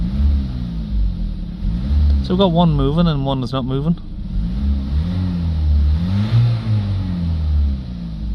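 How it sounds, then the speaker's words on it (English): Low diesel engine rumble of a Vauxhall Movano van with a manifold absolute pressure and DPF fault, with a few rises in revs, while someone talks over it partway through. "Let's give the engine a rev."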